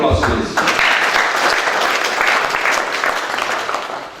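An audience at a magazine launch event claps in full, continuous applause that begins just after a voice and slowly tapers off.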